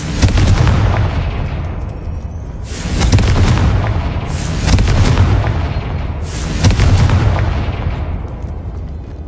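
The Confringo blasting spell from a Harry Potter video game: four heavy, booming explosions spaced a couple of seconds apart, each with a long rumbling decay, loud and without talk.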